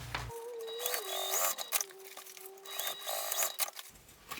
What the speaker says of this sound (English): we're just going to sew across the edge of this, making sure we back stitch on both sides